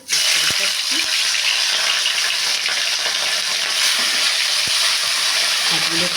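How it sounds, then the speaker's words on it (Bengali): Bhola fish frying in hot mustard oil in a wok, giving a loud, steady, close sizzle that runs throughout with a few faint clicks and spatters. "মাছটাকে আমি ভেজে নিচ্ছি কড়াই গরম করা হয়েছে সর্ষের তেল গরম হয়ে গেছে"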